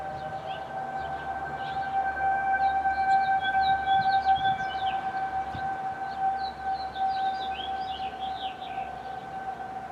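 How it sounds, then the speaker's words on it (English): A civil defense tornado siren sounds during a statewide test in Michigan, a steady sustained wail heard from a distance across calm outdoor air, holding level for the whole stretch, with faint birdsong above it. "Catch back up with you guys when the siren comes on."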